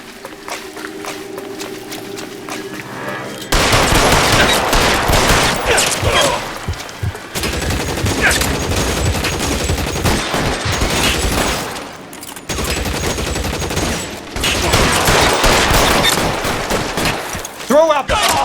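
Heavy gunfire crackles through a shootout in the video game L.A. Noire, with sustained loud bursts and volleys broken by short pauses and ricochet-like whines near the end.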